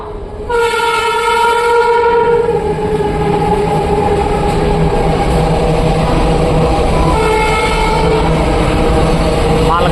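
A loud, rumbling freight train rolls past close by, its horn sounding a long blast at the start and again briefly later, with constant wheel noise.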